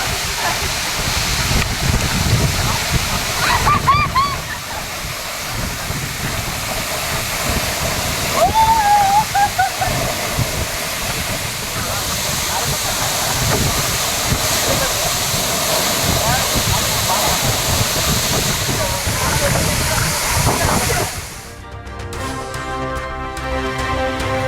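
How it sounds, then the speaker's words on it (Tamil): Heavy waterfall at Agaya Gangai falls in the Kolli Hills, Namakkal district, roaring as a loud, steady broadband rush of pouring water with wind buffeting the microphone, cutting off abruptly near the end. "நாமக்கல் மாவட்டம் கொல்லிமலை ஆகாய கங்கை அருவியில் அதிக அளவில் கொட்டும் தண்ணீர்"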